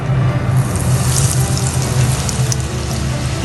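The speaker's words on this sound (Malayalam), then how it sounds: "അപ്പോൾ ഞാൻ എണ്ണ ചൂടാക്കാനായിട്ട് വെച്ചിട്ടുണ്ട്. അതിലോട്ട് നമുക്കിതൊന്ന് ഇട്ട് കൊടുക്കാം." Breaded onion rings go into hot sunflower oil and fry with a loud, close, steady hissing sizzle that holds for several seconds with no voice.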